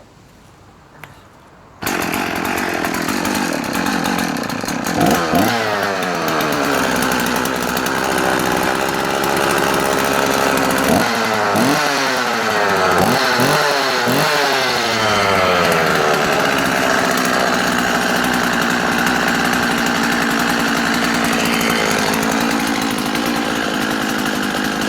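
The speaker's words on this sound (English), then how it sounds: "I'll show it running one last time so you can see how it's leaving me." Vintage Husqvarna Rancher 50 chainsaw starts after a short quiet lead-in, then runs loud and close for over twenty seconds, with repeated throttle blips revving up and dropping back before settling into a steady idle-to-high whine.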